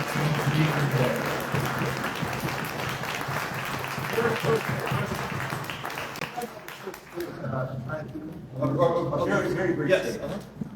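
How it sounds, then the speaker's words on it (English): An audience at a district candidate forum and endorsement convention applauds the candidates, dense sustained clapping that fades out near the end as a voice begins speaking. "give all the candidates a round of"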